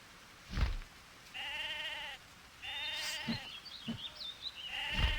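Several sheep bleat in the Mabinogi online game, with long wavering calls repeating across the clip, mixed with short thumps and chimes of game effects.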